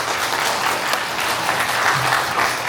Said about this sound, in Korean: 다시 한번 큰 박수를 부탁드리면서